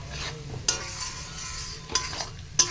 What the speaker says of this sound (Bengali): তো চলো এখন এটাকে কষতে থাকি